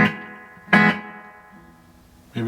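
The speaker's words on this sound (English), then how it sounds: "a little bit of reverb. I got kind of a slapback." Clean electric guitar notes played through a battery-free Danelectro reverb pedal set to a slapback, with three plucked notes whose tails ring out and decay, all heard alone.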